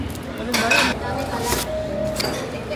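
A spoon stirs an almond latte in a cup, with a few bright clinks against the rim in quick bursts, close by, while a voice talks softly underneath.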